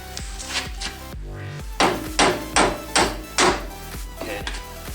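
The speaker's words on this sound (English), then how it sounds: "rubber mallet here." A rubber mallet thuds against car suspension parts during a lowering spring install on a Pontiac Vibe or Toyota Matrix, giving a few light knocks followed by five evenly spaced, louder whacks close by.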